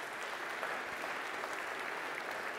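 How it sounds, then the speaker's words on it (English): Church congregation applauding during a worship service, a dense, steady burst of clapping from a crowd that fills the whole stretch at moderate level with no break. "So let's give a round of applause for our partners."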